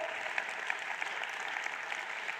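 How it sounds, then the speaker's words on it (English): Distant, fairly quiet applause from an audience at the national exam results announcement, welcoming the Minister of Basic Education; a steady patter of many hands clapping without speech. "Applause, please, for our Minister of Basic Education"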